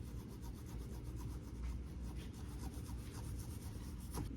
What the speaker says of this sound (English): it is time to scrape the excess paint off and clean the eyes off with lacquer thinner